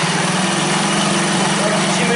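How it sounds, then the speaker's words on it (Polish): A Zipp Salmo scooter's small engine runs after a repair and valve adjustment, a loud, steady, buzzing idle with a fast, even pulse, close by and unbroken for the whole stretch. "Zawory mamy już wyregulowane, spróbujemy uruchomić silnik"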